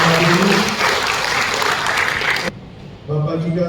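An audience applauds at a Christmas gathering of the Papua provincial finance and assets agency staff, loud dense clapping filling the room for a few seconds, briefly dropping off before picking up again, with speech mixed in.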